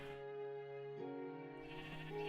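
Sheep bleat in Minecraft, a faint, quivering nasal cry that wavers and shifts pitch midway, heard alone at low volume.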